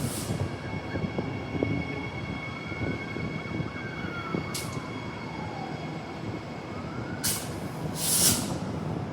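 An Ellenbrook line passenger train in Perth rolls past, a continuous rumbling drone with rising and falling tonal whines, plus a couple of short bright bursts near the end.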